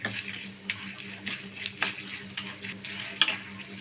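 A spoon stirs a sizzling tempering of dried red chillies, curry leaves and turmeric in hot oil, with close crackle and sharp clinks of metal against the pan at irregular intervals, fairly quiet overall.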